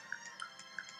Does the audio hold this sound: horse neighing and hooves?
no